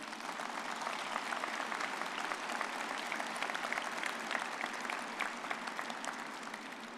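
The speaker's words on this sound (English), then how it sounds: "Everyone, give them a round of applause, would you please?" A large crowd at a commencement ceremony claps steadily and continuously, a dense wash of applause that holds at an even level throughout.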